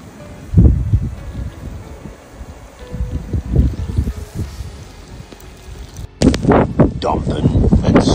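Strong wind from a polar blizzard in Victoria, Australia roars as broadband rumble and buffeting against the microphone, with louder gusts near the start and end, under occasional talk.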